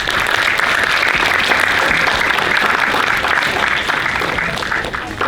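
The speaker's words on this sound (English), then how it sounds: "Let's give him one more round of applause" Steady, dense audience applause at a youth-day filmmaker Q&A, loud and continuous throughout, tapering slightly near the end with no talk over it.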